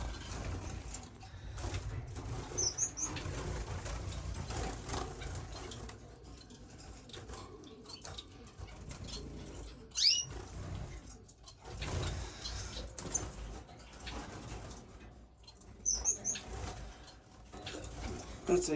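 Society finches in an indoor bird room: soft cooing calls and occasional flutters of wings over a low mechanical hum, with scattered chirps and clicks, fairly quiet and close.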